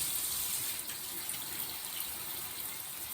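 Tap water runs steadily into a sink, a constant broadband hiss with no voices, heard while waiting for it to warm up during a curly hair detangling routine.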